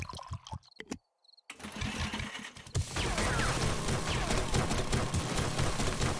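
In the survival video game 7 Days to Die, a drill with a melee boost grinds in a dense, continuous mechanical roar after a few short clicks and a brief pause.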